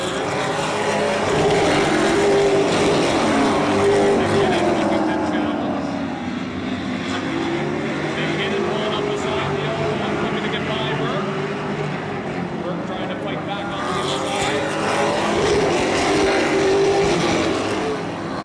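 Pro Stock stock cars racing at Oyster Bed Speedway, a loud continuous engine roar with pitch rising and falling as cars pass, under a commentator's voice.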